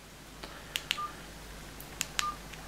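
Keypad beeps sound as digits are entered for a new contact on an Elari NanoPhone. Several short, quiet tones come singly and in pairs, with gaps between them, against faint background noise and no speech.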